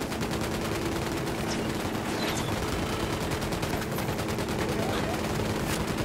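Sustained gunfire from the Ghost Recon Wildlands video game, with dense, overlapping rapid shots over a steady loud battle din, sounding like automatic weapons firing continuously.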